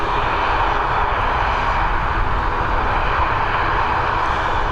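ATR turboprop airliner taking off at Dublin Airport, heard as a steady, loud broadband engine and propeller roar that holds constant throughout without talk.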